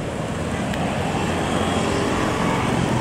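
Steady low rumble of road traffic with engines droning nearby, a large bus moving through continuous roadway noise as it enters a city; no voices.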